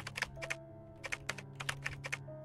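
Rapid clicks of a computer keyboard being typed on inside a video game about cleaning, several quick bursts of keystrokes in an uneven rhythm over a low steady background hum.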